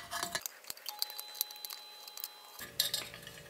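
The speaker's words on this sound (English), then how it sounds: "I'm just going to use a crescent wrench. That's what I'm using to get this guy off of here." Up close, a crescent wrench loosens the nut holding the fan on a Sub Zero 700TC refrigerator, giving scattered sharp metallic clinks and ticks with a quiet gap in the middle and a louder clatter near the end.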